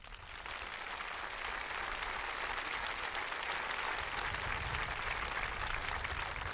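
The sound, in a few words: audience applause at graduation ceremony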